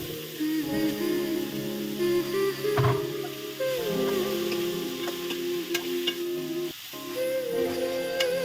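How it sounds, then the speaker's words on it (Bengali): Snake gourd pieces frying in a wok, a steady sizzle with soft stirring scrapes and a few brief clatters, close by, with no talking. "এপাশে এবার কড়াইটা দিয়ে আমি চিচিঙ্গাগুলো আগে ভেজে নেবো"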